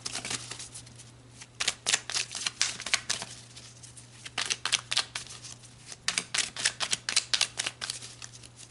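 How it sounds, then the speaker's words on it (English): Tarot cards are shuffled close up in repeated rapid riffling bursts, a crisp flapping texture in uneven clusters over a low steady hum, with no talking. "All right, let's pull some more cards."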